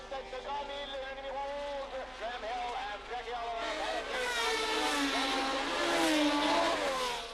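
A pack of 1971 Formula 1 race cars pulls away from the starting grid, their overlapping high-pitched engine howls climbing in pitch as they accelerate, loud and continuous.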